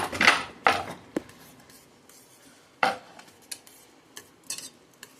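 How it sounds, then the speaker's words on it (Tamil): A spoon clinks and scrapes against a bowl while beating an egg mixture with onion for bread egg toast, several sharp close taps followed by softer scraping and small knocks. "இப்போ கொஞ்சம் கலக்கலாம்"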